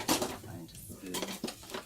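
Metal cutlery clinks and rattles as a spoon is sought among utensils in a home kitchen, a few close, bright jangling bursts within two seconds, with no talk.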